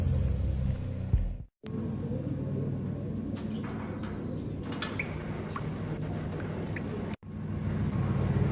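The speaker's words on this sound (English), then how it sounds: "The old service elevator rumbled down to the bowels of Jack Lupino's hotel." An old service elevator in the Max Payne video game descends into a hotel's basement with a steady, heavy low rumble and faint creaks and clanks above it, cutting out briefly twice.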